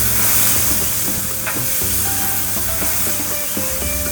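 Spicy lamb chops sizzle loudly over a flame, a dense continuous crackle and hiss broken by a few sharp clicks and scrapes as they are moved around.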